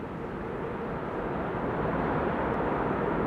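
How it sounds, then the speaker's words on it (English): An airliner's thrust reversers roar at Amsterdam Schiphol Airport, a broad, steady rumble that swells slightly louder over a few seconds, heard from a distance with no talk. "you can hear the reversers."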